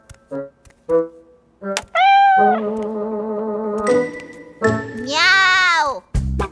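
A cartoon cat meows several times, drawn-out and tonal, with a light jingling and tinkling between the calls.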